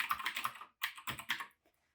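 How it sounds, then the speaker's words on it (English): Rapid bursts of clacky keystrokes on an AlphaSmart 3000 converted into a mechanical keyboard, several quick runs of typing close up, then a short pause and a final faint tap. "I'm trying to type a sentence here, and this is what I got."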